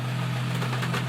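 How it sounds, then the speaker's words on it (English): A boat engine runs at a steady idle, giving a low, continuous hum with a faint mechanical ticking, near and fairly loud, with no voices. "Engine is running, as you can hear."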